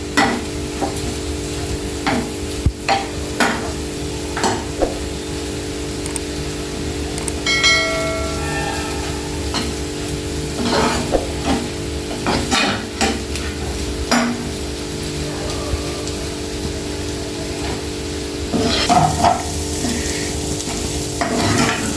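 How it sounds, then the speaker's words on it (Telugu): Onions fry in a pan for an onion egg curry, a continuous sizzle broken by repeated sharp clinks and scrapes of a utensil stirring against the pan, with some brief ringing metallic tones. "మంచిగా ఇట్లా ఫ్రై చేసుకోండి ఉల్లిపాయలలో"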